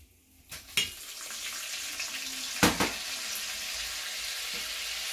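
Breaded chicken thighs fry and brown in a pan with butter, giving a steady broadband sizzle with a couple of sharper pops and clinks near the start and middle, close and moderately loud.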